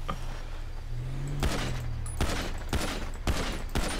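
Several gunshots ring out in GTA 5 at a buck in the wild, four or five sharp reports spaced irregularly against a low ambient rumble, each loud and close.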